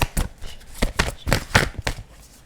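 Tarot cards being shuffled by hand in a series of crisp riffling bursts at an irregular rhythm, close and fairly loud, with no voice over them.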